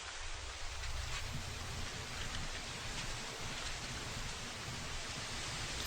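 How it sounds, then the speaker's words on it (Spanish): Heavy rain pounds a car windshield in a steady, dense roar of hiss and drumming, continuous and even throughout, with no talk. "La lluvia golpeaba con fuerza el parabrisas"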